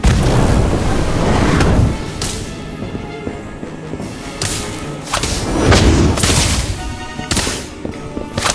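An Incendio fire spell cast in the mobile game Harry Potter: Magic Awakened, heard as loud whooshing bursts and booming thuds that repeat several times, alone with no talk.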